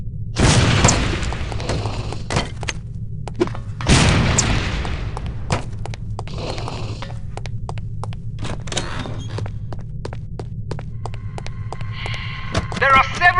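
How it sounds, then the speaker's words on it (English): A lipstick explosive detonates in the video game The Operative: No One Lives Forever, giving two loud, close booms a few seconds apart amid scattered game clicks, clatter and a steady low hum. "These relatively inconspicuous-looking lipsticks are actually powerful explosive devices that detonate on impact."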